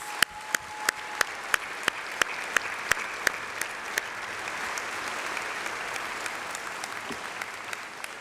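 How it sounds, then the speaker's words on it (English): Graduation ceremony audience applauds the graduates with a steady, even wash of clapping from a large hall, fairly soft and distant, with a series of sharp regular clicks cutting through the first few seconds. "all of that deserves an extra round of applause for these remarkable graduates"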